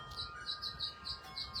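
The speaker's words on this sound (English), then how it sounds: "The birds are screaming." Several short, high chirping bird calls repeat every few tenths of a second over a low, steady background hum, fairly faint and distant.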